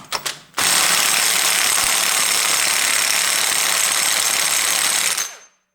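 A pneumatic tool hammers on a nut of a Honda automatic transmission during a bearing replacement. After a couple of short taps, a loud, continuous rattling burst runs close up for several seconds, then cuts off.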